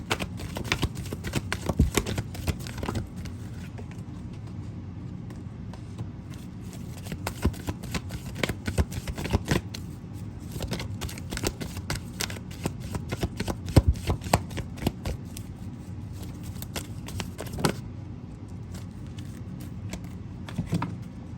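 Tarot cards being shuffled for a pick-a-card reading, a steady run of dense riffling and flicking that carries on for about twenty seconds, close and fairly loud, with a few sharper snaps and no talking.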